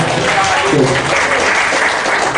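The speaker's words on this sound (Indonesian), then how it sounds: "Tepuk tangan nih untuk kalian semua." A seminar audience claps, a loud, continuous crowd applause with a voice briefly audible partway through before the clapping carries on steadily to the end.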